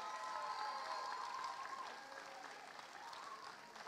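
Audience at a robotics competition award ceremony applauding steadily, a soft continuous patter of many hands with faint background tones, heard from a distance.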